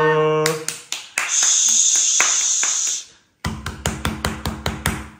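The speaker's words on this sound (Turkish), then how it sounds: "Alkış." Clapping at a child's birthday party, with a bright hissing sparkler-like sound early on, then a quick run of sharp, close, rhythmic hand claps after a brief pause.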